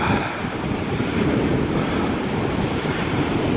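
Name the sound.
storm waves at Watchet harbour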